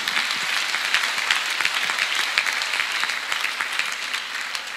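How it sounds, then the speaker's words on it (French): A church congregation breaks into loud, sustained applause, a dense patter of many clapping hands that stays steady for several seconds without voices over it. "Acclamons notre roi pour ce qu'il a fait pour nous."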